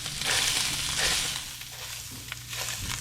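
Ground meat sizzles and crackles in a sheet pan while being broken up with a utensil, loud close frying with scraping strokes and short bursts of stirring, no voices.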